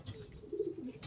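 A racing pigeon gives a soft, low coo close by, one short throaty call in a quiet setting.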